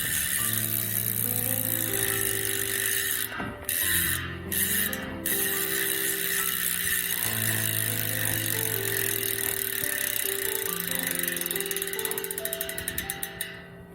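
A new Mavic rear bicycle wheel's freewheel hub ticking as it spins, a fast, loud, close ratcheting clatter that keeps going on its own and slowly winds down near the end.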